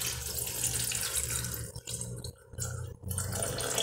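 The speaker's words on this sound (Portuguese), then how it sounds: "E agora a nossa água gelada." Ice-cold water is poured into a blender jug holding pineapple and ginger for a detox juice, a continuous splashing stream with brief pauses and gurgles near the end, close and alone.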